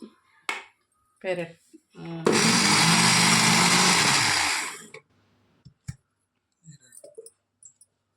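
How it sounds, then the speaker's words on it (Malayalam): A mixer grinder runs in one loud, steady burst of about three seconds, coarsely grinding paste for aviyal in a home kitchen, with brief clicks and handling knocks before and after. "അവിയലിനൊക്കെ അരയ്ക്കുന്നത് പോലെ ചെറുതായിട്ടൊന്ന് തിരിച്ചെടുക്കാം."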